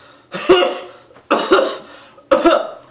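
Three heavy, harsh coughs spaced about a second apart, each a loud burst that trails off, with nothing else around them.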